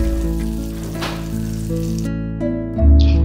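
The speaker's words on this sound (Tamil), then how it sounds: "அதை பொரிக்க ஆரம்பிச்சிட்டேன்" Steady crackling sizzle of chicken frying in butter in a pan, close and continuous, with faint kitchen clinks near the end.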